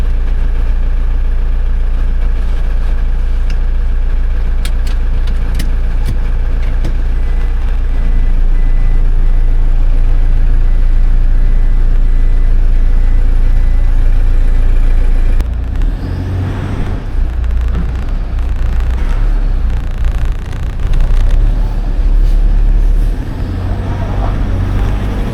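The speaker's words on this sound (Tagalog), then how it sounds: "malakas na yung pick up ng makina" A 2006 Toyota Fortuner's engine hums and rumbles on a road test after fuel injector wiring repairs, a loud steady low drone that shifts as the vehicle moves, with road noise rising in the second half.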